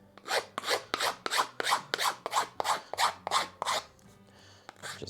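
A file chamfers the edge of a wooden guitar backplate in about eleven quick, even rasping strokes, close and clear, then stops before a few faint scrapes.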